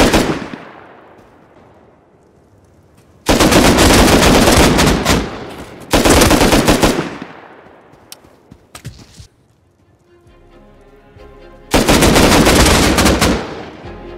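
Gunfire in the console edition of the survival game Rust: three loud bursts of shots, each ringing out and decaying, with quieter pops and gaps between them and no talking.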